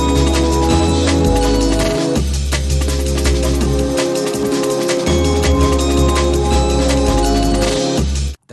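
Jungle pad sample resampled through a Korg Amigo, a thick loud layered pad with deep shifting bass notes and a dense wash of upper tones, ending with a sudden cutoff.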